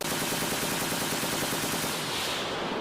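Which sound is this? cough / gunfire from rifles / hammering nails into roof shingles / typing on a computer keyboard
gunfire from rifles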